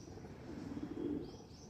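A white pigeon perched on a nearby building gives a faint, low, throaty coo. The call is a soft warbling murmur that rises briefly and then fades, set against quiet outdoor background hiss.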